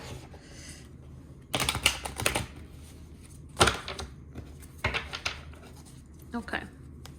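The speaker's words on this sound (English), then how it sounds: "Oh, these cards are painful to shuffle." Bursts of tarot card shuffling, crisp riffling and flicking in several short runs separated by quieter gaps, close by.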